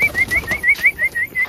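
Green dobaj pigeons in a collection flap their wings in a quick, steady series of about eight bursts, close and fairly loud, with faint soft calls among the beats.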